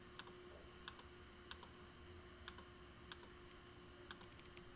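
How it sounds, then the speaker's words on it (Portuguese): Sparse, faint keyboard taps while a password is entered into a DVR menu, single key clicks spaced about half a second apart over a constant electrical hum. "Deixa eu digitar aqui enquanto você."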